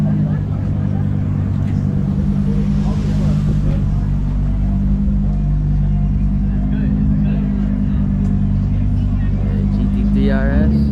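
A Ford Shelby GT350's V8 holds a loud, steady low engine drone throughout, with no clear rise in revs, while voices talk over it on a drive to a private car meet.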